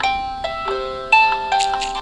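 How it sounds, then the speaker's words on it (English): A phone alarm plays a short bright electronic melody of chiming tones, close and clear, with no voices. "that's my alarm telling me that I have to leave soon"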